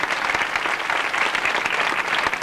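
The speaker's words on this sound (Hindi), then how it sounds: "आपकी तालियां मेरे साथ।" A packed audience at a college foundation-day ceremony bursts into loud, sustained applause as a guest is introduced, a thick continuous wash of clapping with a few sharper individual claps.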